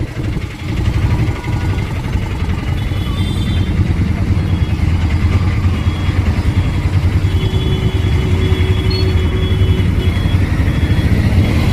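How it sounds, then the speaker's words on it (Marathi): Steady street traffic in Udgir town near the vegetable market, with rumbling car and motorcycle engines, a constant loud wash of idling and passing vehicles throughout. "ट्रॅफिक बघा उदगीरमध्ये."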